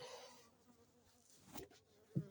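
Faint, steady buzzing of honey bees drifting from an open hive in a quiet space, with a few soft knocks and rustles toward the end.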